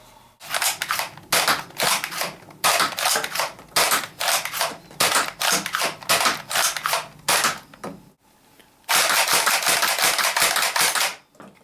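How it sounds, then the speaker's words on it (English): A modified Nerf Strongarm revolver blaster with a drop clip mod fires foam darts in a quick series of sharp, close snapping pops, followed by a brief pause and then a longer rapid burst. "So now on to the firing demo."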